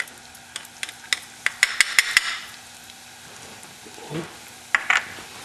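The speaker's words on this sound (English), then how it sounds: "we are going to add some freshly chopped garlic." Chopped garlic sizzles faintly in a pan as a spoon taps and scrapes in a quick burst, then a quieter stretch of soft frying.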